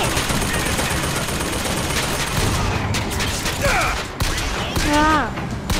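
Gunfire in the video game Bioshock Infinite, bursts of rapid shots and mechanical clatter under game noise, with a voice speaking in between.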